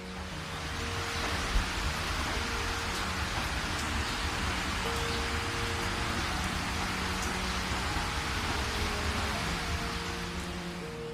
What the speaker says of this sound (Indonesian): Hujan deras mengiringi derai kesedihan yang memenuhi ruangan.